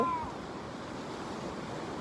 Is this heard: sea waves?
yes